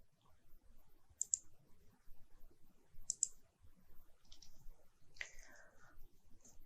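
A few faint, sharp computer mouse clicks spaced apart in a quiet room, two crisp double clicks followed by softer ones, heard alone without talk.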